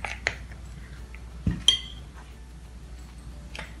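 A utensil clinks against a bowl while melted chocolate with added colouring is stirred, a few sharp isolated taps and scrapes spaced out over a quiet background.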